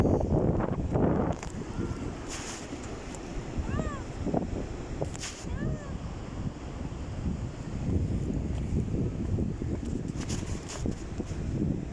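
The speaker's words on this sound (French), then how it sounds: "s'il y a du vent, je suis désolé parce que genre on est à la plage" Wind buffets the microphone on a beach, a continuous rough rumble that swells and eases throughout, with faint higher calls briefly audible in the mix.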